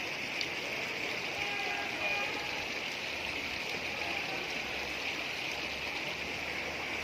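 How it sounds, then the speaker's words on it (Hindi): Natural hot spring water flowing out of the ground in Kashmir makes a steady, unbroken rush and gurgle, like a small stream, holding an even level throughout with no voices. "गर्म पानी कुदरती तौर पर यहाँ से निकलता है।"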